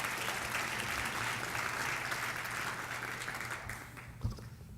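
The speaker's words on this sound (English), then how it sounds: "give yourselves a round of applause for what you do" Staff conference audience applauding together, a dense, steady wash of clapping that carries through and tapers slightly near the end with a single louder thump.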